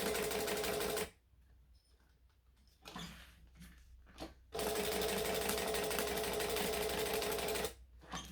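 A sewing machine runs in two steady stitching bursts while quilting lines across fabric, with a quieter pause between them full of brief handling clatter before the machine starts up again, close and loud.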